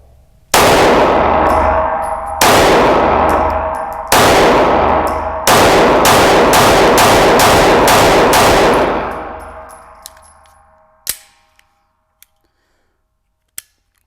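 Shots from a Smith and Wesson Equalizer pistol: two single shots, then a pair, then a fast string of about six shots, each loud and sharp with a long ringing tail. Brass clinks follow as the firing stops.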